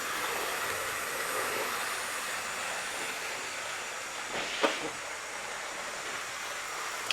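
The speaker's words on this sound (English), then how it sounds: "This is one exquisite locomotive that Hornby have produced." A Hornby Britannia class model steam locomotive from 2007 runs on its track, giving a soft, steady mechanical whirr and hiss with a brief louder clatter partway through.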